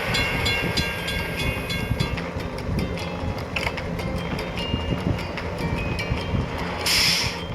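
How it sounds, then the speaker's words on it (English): Train passing a closed crossing in a toy construction-vehicle video game, heard as a steady rumbling wagon noise with repeated light clicks and a brief hiss near the end, continuous throughout with no talk. "We have to wait for the train to pass."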